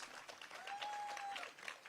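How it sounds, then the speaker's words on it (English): Brief burst of audience applause at a live stamp unveiling ceremony, fairly quiet and distant clapping with a faint steady tone running underneath. "Round of applause for Richard Lichtenstein, Dale Stefanos,"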